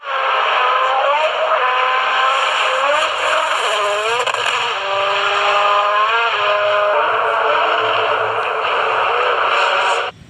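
A rally car drives for about ten seconds with a steady, loud engine drone whose pitch rises and falls through several gear changes, heard close and continuous with no talking over it.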